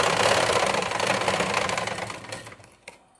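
Sewing machine stitching a blouse with a fast, steady mechanical rattle that runs up close and loud, then slows and stops, followed by a couple of faint clicks.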